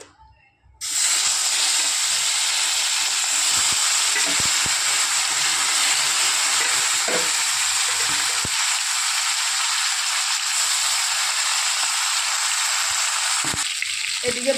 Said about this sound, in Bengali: এবার ওই তেলে বাদবাকি মাছগুলো ভেজে নেব।